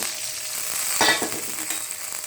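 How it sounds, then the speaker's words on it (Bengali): Water poured into hot oil with fried garlic and ginger, a brief loud burst of sizzling that flares and then settles into steady frying. "এখন আমি সামান্য পরিমাণ পানি দিব।"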